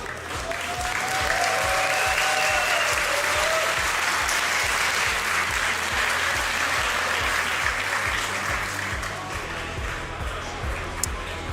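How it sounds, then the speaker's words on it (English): Sustained, loud crowd applause fills the hall at the final of a Yu-Gi-Oh! tournament, the EU WCQ in Berlin, with dense clapping throughout and a faint voice over it early on. "Can we get a round of applause from the crowd?"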